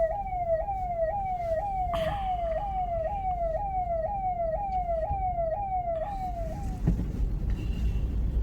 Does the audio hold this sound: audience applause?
no